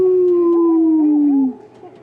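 A voice imitates a long, loud howl, holding a steady tone that slowly slides downward before cutting off.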